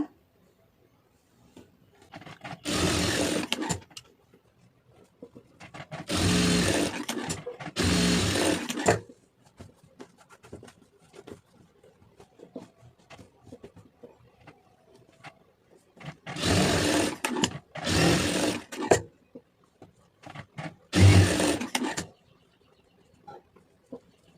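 A sewing machine stitches a lined blouse in about six short, loud bursts of rapid whirring, each separated by quiet pauses with faint handling noises.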